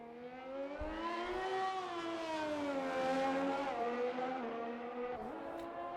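A Ferrari Formula 1 car engine in the F1 2021 video game on the Imola circuit, a high, steady whine with pitch rising and falling through gear changes, sustained and close, with no voices.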